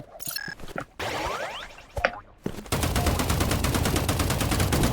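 Gunfire in the video game Rivals: a few scattered single shots and impacts, then a long, fast, evenly spaced automatic burst that rattles on loudly to the end.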